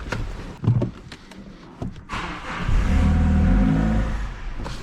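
A Mazda 6 2.2 Skyactiv diesel with a blocked DPF and low boost pressure is started and run for about two seconds: clicks and clunks first, then the engine catches and rumbles loudly for a short burst.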